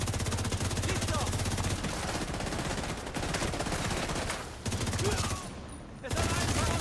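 Gunfire in The Division 2, rapid automatic weapon bursts rattling continuously at moderate loudness, with short pauses between volleys and a faint voice now and then beneath the shooting.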